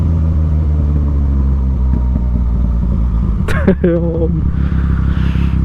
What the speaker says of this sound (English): Listen for the backfires, man.